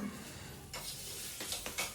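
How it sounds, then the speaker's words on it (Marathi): Something roasting in a pan with salt and ghee until crispy, giving a faint, steady sizzle with a few soft scraping stirs near the end. "यामध्ये थोडंसं मीठ आणि तूप टाकून हे भाजून घ्यायचं होतं"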